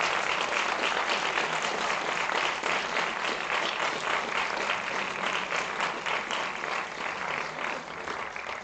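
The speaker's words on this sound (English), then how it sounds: "Please, one more time, give a big round of applause to Dr." A steady, dense round of applause from an audience at an educational theatre event fills the whole stretch at even loudness, fading slightly toward the end.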